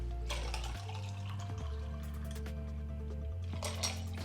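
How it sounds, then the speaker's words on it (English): Mojito poured from a mixer into serving glasses over ice, giving a few seconds of splashing liquid with light clinks of ice against glass, close and moderately loud over a steady low background hum. "Now let's go ahead and pour that into the glasses."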